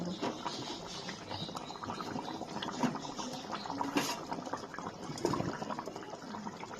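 Fish egg fritters dropped into a simmering curry gravy, a continuous close bubbling and liquid gurgle with a few soft splashes and plops as the fritters go in, no talking.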